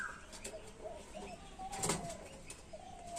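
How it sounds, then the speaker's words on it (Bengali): Pigeons in a home loft flutter and shift about, brief wing flaps with a soft coo-like tone and faint chirps, close and quiet, with no talk over it. "এখানে নতুন মদ্দা পায়রাটা আছে নর পায়রাটা"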